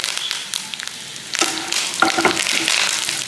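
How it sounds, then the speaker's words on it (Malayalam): Curry leaves hitting hot coconut oil with spluttered mustard seeds, a light crackle swelling into a louder, denser sizzle after a clatter midway, heard close up with no speech. "കടുക് പൊട്ടി കഴിഞ്ഞിട്ടുണ്ടെങ്കിൽ വേപ്പിലിടുക."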